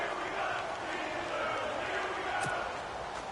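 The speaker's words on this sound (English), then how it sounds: "the crowd getting into it as we come up on a big 3rd down" A stadium crowd in a video game American football match roars as a big third down approaches, a steady, broad wash of massed cheering with a brief sharper accent near the end.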